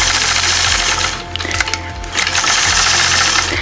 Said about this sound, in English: So I'll engage the machine and apply gentle pressure as I stitch that first diagonal line.